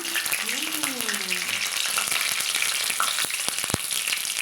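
Nigella seeds and chopped green chillies hit hot oil with a bright, continuous crackling sizzle, joined by a few sharp spits and pops. A brief voice-like murmur sounds near the start.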